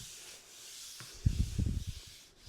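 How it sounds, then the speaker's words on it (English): Fingernails rubbing across the back of a peel-and-stick wood veneer sheet, a short close scratchy rub that swells for about a second over faint background hiss. "Kind of using my fingernails on the back of the veneer."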